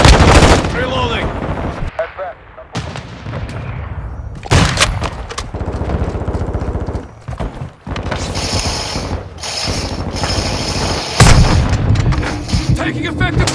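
Heavy gunfire and artillery in Call of Duty: Modern Warfare II: dense bursts of automatic fire, sharp mechanical clatter and booming blasts that hit loud and close, with brief gaps and shouted voices mixed in.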